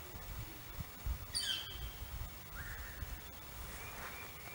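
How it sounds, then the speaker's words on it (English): Birds calling outdoors on a woodland walk: a quick descending burst of bright chirps, then softer rising whistled calls, faint against a quiet background with occasional low rustles. "Oh, sounds like the birds are going to be out here."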